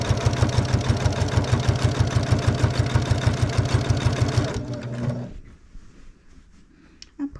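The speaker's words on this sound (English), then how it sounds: "I'm going to sew all the way around to the first corner." A sewing machine stitching quilt binding runs loud and close in a fast, even mechanical rhythm, then slows and stops, leaving near silence with a few small handling clicks.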